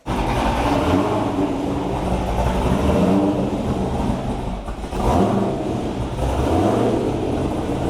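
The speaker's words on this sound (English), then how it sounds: "So the Z06 is outside getting warmed up" A Corvette C6 Z06 with an LS7 engine warms up outside, a loud steady low-pitched idle rumble with a brief dip and swell midway, heard close and alone.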